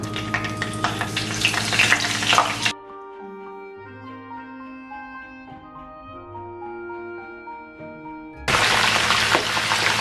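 Round aubergine slices sizzle in hot oil in a home kitchen, a dense hiss at the start and again at the end, with a quiet stretch of sustained music-like tones in between.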